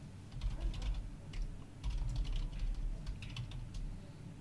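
Typing on a computer keyboard during a tournament playoff stream: quick bursts of close, crisp key clicks separated by short pauses, with no one speaking.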